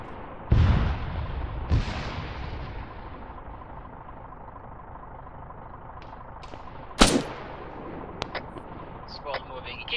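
Gunfire and explosions in a military video game: two heavy booming blasts early on, then a sharp loud crack and scattered lighter shots over a low background rumble.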